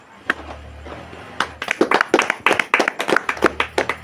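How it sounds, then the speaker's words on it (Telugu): A congregation at a church service claps hands in sharp, distinct bursts that build into a steady rhythmic clapping, with a faint low hum underneath. "చప్పట్లు కొట్టండి."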